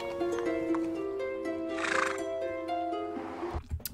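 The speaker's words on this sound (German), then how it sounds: "Schönes Pferd." A horse whinnies loudly with a long, wavering neigh, followed by a shorter second call near the end.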